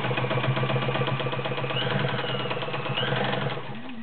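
A Kenmore model 1229 sewing machine stitches steadily with a fast, even mechanical whirring and ticking that holds close and loud throughout, easing slightly near the end.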